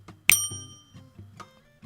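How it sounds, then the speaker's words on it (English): A ring-a-bell sound effect: one bright bell strike rings out with clear sustained tones that fade over about a second, followed by a few softer, lower chimes. "Cue the ring a bell sound effect."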